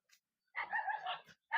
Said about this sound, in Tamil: நாய் குலைச்சிட்டு இருக்கு